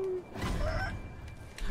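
In a video game, a rooster crows and clucks close by, with a brief high call followed by scratchy fowl sounds under faint background noise.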